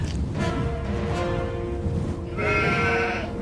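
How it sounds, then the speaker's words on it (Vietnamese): Sheep bleat inside a cave in a cartoon, several sustained wavering cries, fairly loud, layered over a dense background of wind and score. "Hình như có con cừu trong hang kia"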